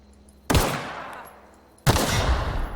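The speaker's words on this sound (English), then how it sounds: "Let's use the pistol." Two sharp pistol shots from the video game The Outer Worlds, loud and close, fired about a second and a half apart, each with a short echoing tail and no talk.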